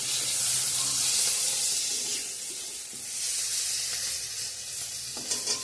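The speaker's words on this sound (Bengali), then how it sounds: "পটল ভাজাটা হয়ে গেছে" Pointed gourd (potol) frying in a pan for a home-cooked vegetarian meal, giving a steady, close, dense sizzle and hiss throughout, with a brief clatter near the end and no talking.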